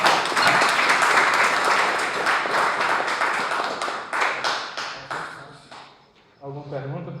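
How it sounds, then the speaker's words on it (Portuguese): Clapping from a small audience at a school presentation in Paracatu: a loud burst of many hands that tapers off into scattered claps, then a voice begins talking once the applause dies down. "palmas primeiro para ele."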